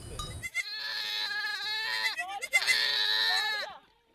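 Goats on a drought-hit Turkana homestead in northern Kenya give two long, wavering, nasal bleats, loud and close, after a brief burst of rough noise at the start.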